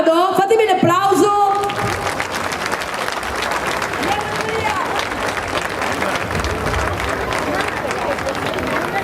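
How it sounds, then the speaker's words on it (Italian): Crowd applause at a dance show, dense clapping with some cheering, following a brief burst of voices and a melodic tone at the start; steady and fairly loud throughout. "Fatemi un applauso!"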